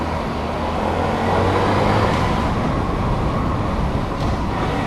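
A 2014 Honda Grom motorcycle on the move, a loud, steady roar of engine and wind rumble with a slight rise in pitch partway through, continuous and close, no talking.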